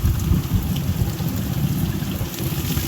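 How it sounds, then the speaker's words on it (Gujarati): Steady rain falls near a temple outing in Gujarat, a dense continuous patter with low rumbling underneath that holds evenly and loud throughout, with no voices. "વરસાદ ચાલુ થઈ ગયો છે"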